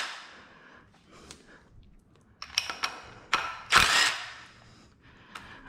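A ratchet wrench turns a pulley bolt on a BMW M50 engine during a garage teardown. Several close, quick bursts of sharp clicking ratchet up against quiet shop background.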